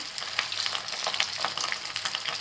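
Fasting bhaji fritters deep-frying in hot oil, a dense, continuous bubbling sizzle with small crackling pops, close and steady for the whole stretch, with no speech.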